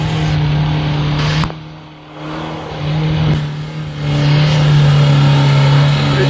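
A UAZ off-road vehicle stuck in heavy going, its engine droning loudly and then revving hard in surges with a brief dip between them, heard up close; voices are faintly present beneath the engine.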